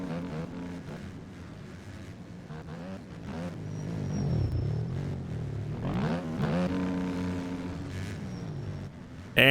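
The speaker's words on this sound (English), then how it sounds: "listen to the motorcycles here, you're going to hear how these guys work the throttle through these corners" Motocross motorcycles in a video game race through corners, engines rising and falling as riders work the throttle, with a long rising rev swell midway and several bikes audible at once, no talk.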